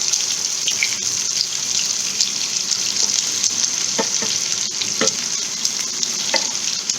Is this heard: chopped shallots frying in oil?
yes